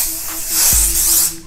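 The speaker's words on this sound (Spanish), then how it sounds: "alcohol en aerosol." Alcohol disinfectant aerosol can sprayed in a loud, continuous hiss for over a second, close by, with a soft thump partway through.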